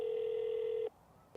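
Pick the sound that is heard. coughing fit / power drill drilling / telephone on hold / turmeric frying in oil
telephone on hold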